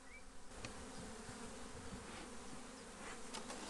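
Honeybees inside an open beehive hum in a dense, continuous drone close to the microphone, with a few faint knocks and no voices.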